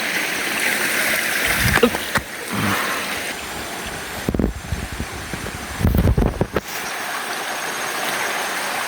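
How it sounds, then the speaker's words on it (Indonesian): A small river flows as a steady, close rush of water among rice fields, with gusts of wind buffeting the microphone at intervals. "ini nih sungai yang sempat saya bicarakan tadi ya sahabat, sungai kecil ya"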